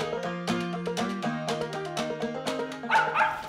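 A mountain feist dog barks repeatedly at a squirrel up a tree in the woods, sharp yips coming in a quick, uneven rhythm, close and loud with no talk over them.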